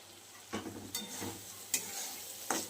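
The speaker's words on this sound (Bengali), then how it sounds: "মশলাটা কষানো হচ্ছে। দেখুন, তেল ছেড়ে আসছে।" Bengali fish kalia spice paste frying and being stirred in oil, a steady close sizzle broken by a few sharp scraping stirs; no voices.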